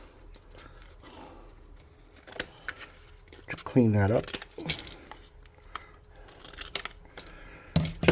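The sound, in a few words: scissors trimming cardstock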